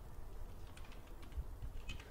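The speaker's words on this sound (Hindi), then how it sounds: "जैसे कि मैं यहाँ पे एक नाम लिखता हूँ मेरा" A name is typed into Excel on a computer keyboard as a quiet patter of key clicks at an uneven pace, close and soft against a low background hum.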